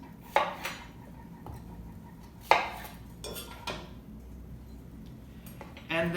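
A knife cuts the ends off a peeled cucumber, making a few soft thuds and clicks against a cutting board, spaced apart with quiet gaps.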